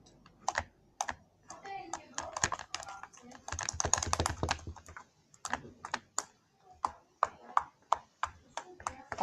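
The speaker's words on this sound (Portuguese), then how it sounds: "Tá clique, gente. Bastante clique." Clicky homemade slime being stirred and mixed quickly, giving a string of sharp, crisp clicking pops in uneven bursts, close and fairly loud, with brief pauses between.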